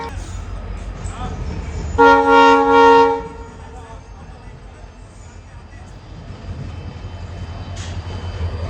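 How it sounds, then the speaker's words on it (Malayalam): A diesel locomotive at an Indian railway station sounds one loud, sustained horn blast lasting about a second, standing out over the steady rumble of the platform. "ഏതോ ഒരു ഡീസൽ വെച്ചൊരു വണ്ടി വരുന്നുണ്ടോ"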